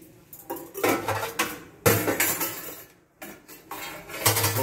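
Close metallic scraping and clinking on a grill grate as it is rubbed down with an olive oil soaked napkin before grilling pintado fish, in uneven strokes with a brief pause midway.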